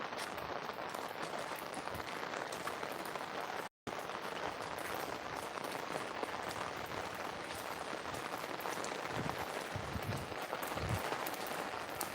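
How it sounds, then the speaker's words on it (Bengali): Steady, dense hiss of heavy rain pouring down continuously, with a brief dropout partway through and a few low thumps near the end. "বৃষ্টি পড়ছে প্রচণ্ড বৃষ্টি হচ্ছে"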